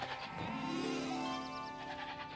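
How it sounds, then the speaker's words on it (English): A cartoon goat on a boat gives one drawn-out, wavering bleat, close and clear, with no one speaking over it. "A goat on a boat?"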